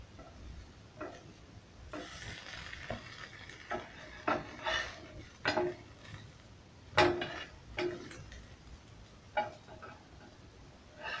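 Bread egg masala roasting in oil in a pan, with soft sizzling under a series of sharp spatula scrapes and clinks against the pan, irregular and close.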